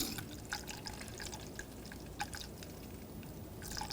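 Coolant trickles and drips through a long-hose funnel into the reservoir of a 2013-2019 Ford Escape, a soft, steady liquid pour with scattered drips, faint and close.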